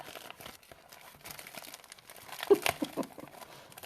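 A gift wrapped in paper is unwrapped, with quiet rustling and crinkling that builds into a few louder crumpling bursts toward the end.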